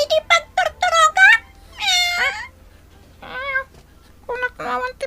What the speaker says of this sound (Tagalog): Kunak naman ti pusa dito eh.